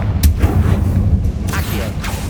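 A Confringo blasting spell explodes in Hogwarts Legacy with a heavy, booming low rumble that fills the whole moment, while a few sharp crackling bursts flare through it, loud and close.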